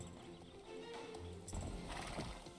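Horse hooves clip-clop along in the video game Star Stable, with a brief neigh heard over dense game background sound and no talking.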